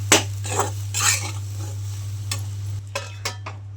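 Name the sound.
stirring chapati pieces with coriander in a pan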